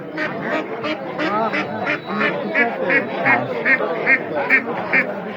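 Ducks at a village market in Jamalpur quack loudly and close by, a rapid run of repeated calls with faint voices behind.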